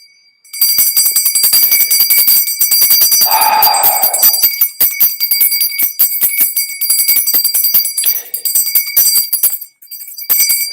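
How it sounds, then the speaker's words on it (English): A small handheld ritual bell rings continuously in rapid, bright strokes for several seconds during a ritual, close and loud, with a brief pause near the end. "the bell, the ringing of the bell calls in spirits"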